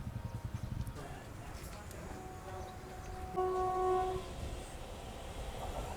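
The Pune to Shirdi train sounds a sustained horn while departing Shrigonda railway station, over a rumbling rail background and faint voices.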